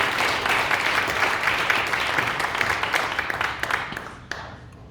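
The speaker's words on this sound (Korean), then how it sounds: "회원 일동 박수" A congregation at a New Year's thanksgiving service applauds in a full, steady round that slowly fades out toward the end.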